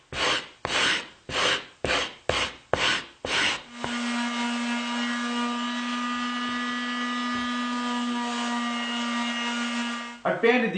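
Cabinet wood parts are hand-sanded in eight quick rasping back-and-forth strokes, followed by a long, steady, loud whine from a power sander that runs for several seconds before it stops.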